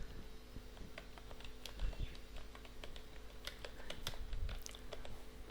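Narration is typed into an entry in Tally ERP 9 on a computer keyboard, a quiet, steady run of light key clicks with slightly irregular rhythm, close but faint, with no talk.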